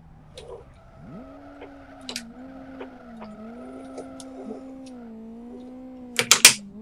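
Hyundai i20 drifting in Live For Speed, with a steady engine whine and tire tones rising and falling through the slide, then a sharp burst of tire squeal and skidding near the end.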